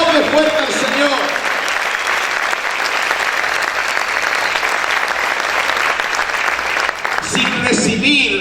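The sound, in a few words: congregation applauding loudly in church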